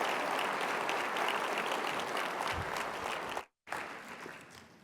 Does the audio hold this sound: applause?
yes